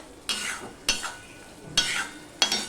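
Masala with tomato is stirred and fried in a pan while making posto bora and bata fish, with four scraping stir strokes over a steady sizzle, close by and with no voices.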